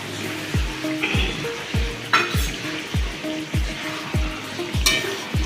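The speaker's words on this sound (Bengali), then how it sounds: "দিয়ে একটু নাড়াচাড়া করে দেবো" A spoon stirs soya and spinach kofta curry after cornflour slurry is added, making about nine evenly spaced scraping strokes against the pan over a bubbling sizzle, close and clear, with no speech.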